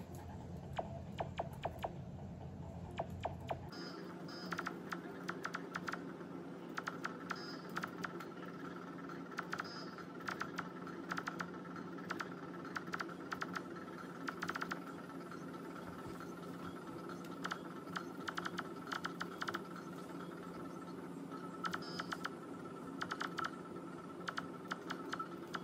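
Irregular light clicking and tapping of keys on a 19-year-old laptop keyboard, steady bursts of typing over a faint constant hum, no voices.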